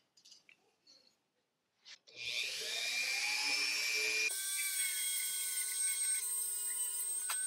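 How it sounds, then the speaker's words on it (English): Brass trumpet brace surfaces buffed with a high-speed rotary tool, a sustained whining tone that starts abruptly after a few faint clicks and holds steady and fairly loud to the end. "And we're going to do that real quick by just buffing those out."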